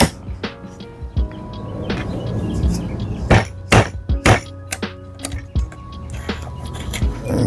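A mallet strikes a rusty old chisel while chopping a mortise in wood, giving several sharp, close knocks, some in quick pairs, among lighter taps and shuffling.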